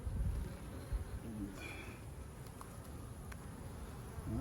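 Honeybees buzz steadily around drawn wax comb filled with nectar and pollen at an open hive, a close, continuous insect drone with faint rustling and no speech.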